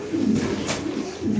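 Gola pigeons coo in a steady, close run of low throaty rolls, repeating several times with a soft continuous backdrop of other birds and no talking.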